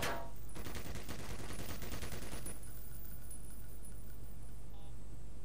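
A gun in the Black Mesa video game fires a rapid automatic burst lasting about two seconds, loud, dense and close, then cuts off into a quieter lingering rumble.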